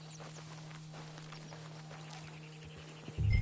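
Horse hooves clip-clop at a walking pace in Red Dead Redemption 2, soft and steady over a low hum, with a louder thump at the very end.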